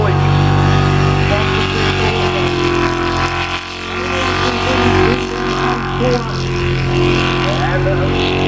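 Superboat racing engines roar at an island-hop race, a loud, sustained, droning multi-engine growl with steady pitch that dips briefly midway and then swells again.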